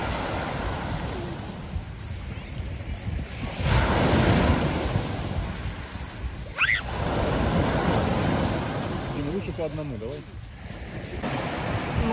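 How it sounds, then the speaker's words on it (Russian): Rough, choppy sea surf rolls and breaks along a deserted shore, a loud continuous wash with surging swells and gusts of wind buffeting the microphone, and a brief voice cutting in once midway. "море штормит немножко"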